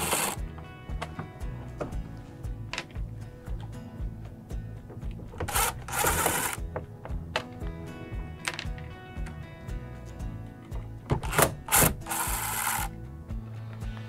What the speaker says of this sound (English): Now we're ready to remove our inner chute screws.